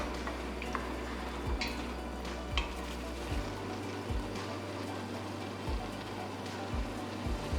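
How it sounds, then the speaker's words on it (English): Cloves and cardamom being stirred into milk in a pot, with soft, repeated scraping strokes at a steady rhythm over a constant low hum, close and moderately quiet. "I'm stirring this in. The cloves, I'm just going to put 1 teaspoon in the elaichi."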